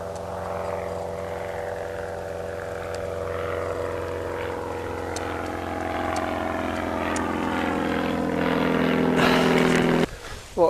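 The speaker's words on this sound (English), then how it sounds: "Nice little biplane." A small propeller biplane drones steadily overhead above quarried Scottish hills at Craigowl, its engine hum rising and growing louder before a sudden burst of wind or handling noise near the end.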